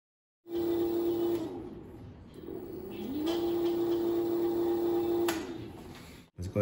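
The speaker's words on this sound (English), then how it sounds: "So we'll give it a throttle, check out this wheel spin." A Bird 2 electric scooter's hub motor, converted to an S866 display, spins its wheel under throttle with a steady close whine. It runs briefly, eases off, then rises again into a longer spin before cutting out.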